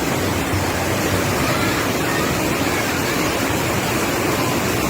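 Rushing floodwater roars in Jamaica during Tropical Storm Ian with heavy rain falling: a loud, constant, broad rushing wash with no breaks, and no voices heard over it.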